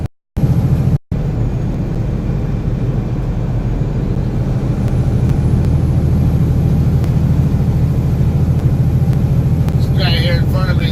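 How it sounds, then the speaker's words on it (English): A purple Kenworth truck rolls past on the highway, its heavy low engine rumble and road roar steady and loud from inside a cab, while someone talks over it. "At least there's a purple Kenworth getting ready to pass me."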